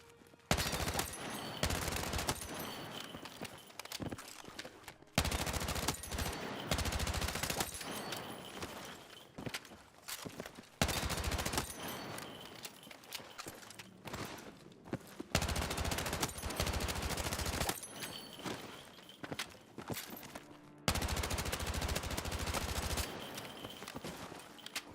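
In GTA Online, the SGX gun fires repeatedly in rapid automatic bursts, each lasting a few seconds and separated by short pauses, loud and close with sharp crackling reports across the whole stretch.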